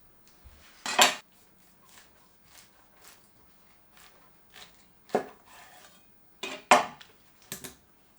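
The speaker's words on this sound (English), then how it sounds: "To remove the core of the pineapple, I like quartering it lengthwise like so." A knife quartering a pineapple lengthwise on a board, giving several sharp cutting and knocking impacts, two of them loud and close, with quieter knife scrapes and taps between, alone without talk.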